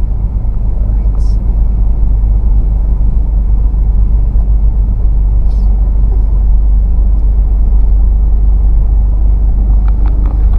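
Heavy road traffic with vehicles idling in a jam in the Philippines, a steady loud low engine rumble throughout, with faint higher hisses and brief mechanical noises on top.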